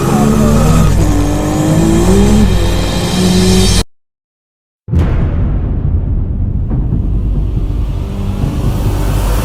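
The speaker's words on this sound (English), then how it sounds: "I think that's Brent in the white top secret Supra" White Toyota Supra with an HKS 3.4-liter stroker engine revving loudly, rising and falling in pitch, then cutting off abruptly into a short silence before a rough, dying engine rumble returns.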